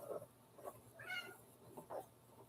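A pet cat named Luna meows twice, close by and fairly clear, with a brief faint extra mew at the start and short pauses between calls.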